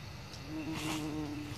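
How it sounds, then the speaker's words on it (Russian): A bee hovers near early spring wildflowers in the Ural mountains. Its close, steady buzz holds a wavering pitch throughout and swells louder partway through, with no voices. "О, пчелка прилетела. Вот она сидит, пчелка."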